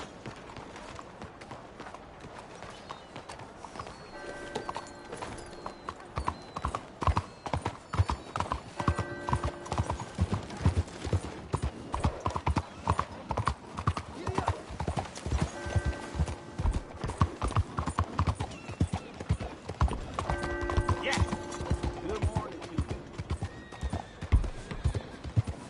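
A horse clip-clops steadily at a brisk pace, its hoofbeats loud and rhythmic, with several whinnies breaking through at intervals.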